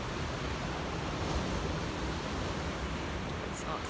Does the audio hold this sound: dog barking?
no